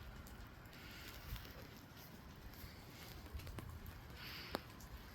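Water dripping from a tree after rain, a steady soft patter of drops falling outdoors with a few slightly louder drips standing out near the middle and end.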